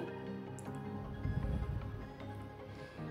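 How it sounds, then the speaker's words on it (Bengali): Gravy for a mustard and poppy seed rohu fish curry boils in a pan, giving a close, steady bubbling and soft popping that swells in the middle, with no talking. "এখন দেখো গ্রেভি ফুটে উঠেছে"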